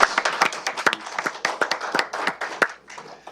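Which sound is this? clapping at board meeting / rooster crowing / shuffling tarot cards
clapping at board meeting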